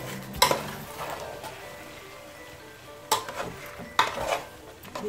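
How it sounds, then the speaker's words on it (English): Chicken chow mein with mixed vegetables is stirred in a pan over a quiet sizzle, with a few sharp scrapes and clinks of a utensil against the metal. "This time you have to stir."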